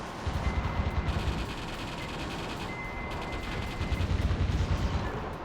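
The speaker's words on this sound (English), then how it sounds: "now stuff's shooting at me" Enemy gunfire in the video game Metal Wolf Chaos, a steady barrage of rapid shots and mechanical clatter running continuously throughout, dense and loud with brief bursts of heavier firing.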